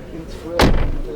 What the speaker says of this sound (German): ich will mal hören, wie die klingt beim Zumachen.